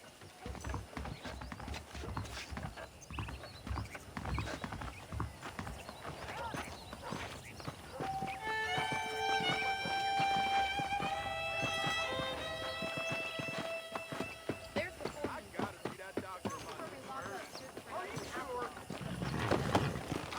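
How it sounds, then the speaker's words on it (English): Horse hooves clip-clop in a steady trotting rhythm in Red Dead Redemption, with a musical score and occasional voices over the top. "The horses are saddled up over here."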